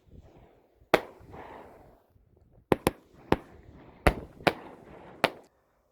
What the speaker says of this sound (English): There are standard aerial repeaters, which will generally have a lot of shots from one firework.